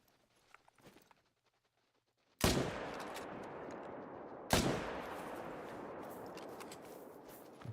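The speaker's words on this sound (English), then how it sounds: "I'm just gonna shoot you" Two sharp, loud rifle shots in theHunter: Call of the Wild, about two seconds apart, each with a long booming tail rolling away across an open hunting landscape, with a near-silent pause beforehand.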